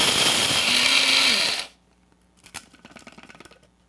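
A blender blitzes dried chili seasoning into fine powder for a Thai dusty chicken recipe, roaring loudly for about a second and a half before cutting off abruptly, followed by soft clinks and rattles.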